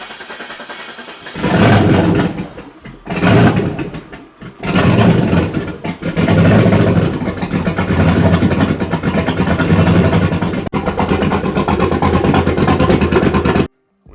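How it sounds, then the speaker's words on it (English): Turbocharged 5.3 Chevrolet Silverado truck engine cranking and firing in short loud bursts, then catching and running at a steady, rough idle close up for several seconds before cutting off abruptly. "we're gonna have to turn on the truck"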